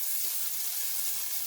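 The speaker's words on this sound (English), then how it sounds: "I've got some olive oil in there, and I'm just mixing some butter in it" Olive oil with butter mixed in sizzles steadily in a hot pan, a close, even, bright crackling hiss that holds throughout without pause or speech.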